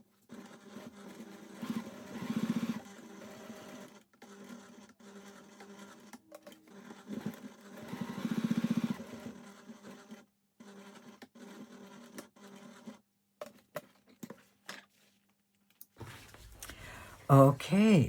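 A sewing machine topstitching a cotton wallet runs in several close, loud bursts of rapid stitching separated by pauses, with a handling clatter near the end.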